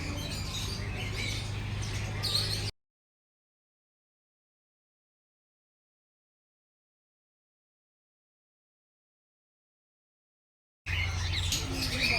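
Birds in an aviary at Peeku Park in Yercaud chirp and squawk in two short bursts separated by a long stretch of silence, faint and busy.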